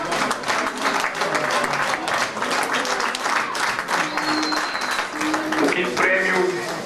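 Steady applause from a crowd at a football club prize-giving, many hands clapping continuously with a few faint voices underneath.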